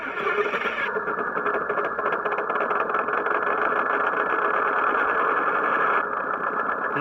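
A Tongde M109 RC howitzer tank plays its simulated engine sound effect: a steady, droning mechanical idle that runs continuously at moderate volume with no talking.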